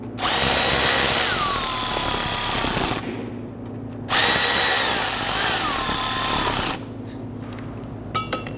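Power drill driving screws into the plastic brake duct of a 2011-2023 Dodge Charger, two loud sustained bursts of whirring with pitch changes as each screw seats, separated by a short pause, then quiet with faint clicks.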